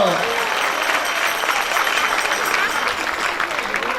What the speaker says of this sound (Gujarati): તાળીના ગગડ સાથે બતાવો.